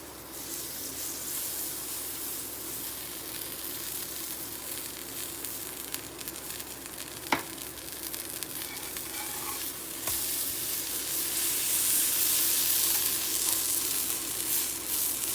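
Pizza paratha cooking on a pan with butter gives a steady, close sizzle that runs the whole clip and grows a little louder toward the end, broken by a couple of sharp brief clicks.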